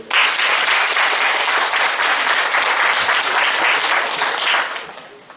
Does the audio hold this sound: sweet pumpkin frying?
no